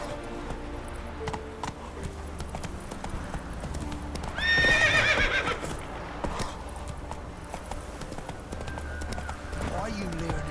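A horse in The Witcher 3 video game gallops with steady clip-clopping hooves and lets out a loud neigh partway through, with game music and voices throughout.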